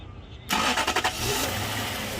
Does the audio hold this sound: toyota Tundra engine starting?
yes